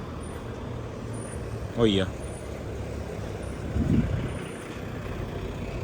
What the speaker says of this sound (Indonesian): ada bus yang masuk guys. Bus medium, pariwisata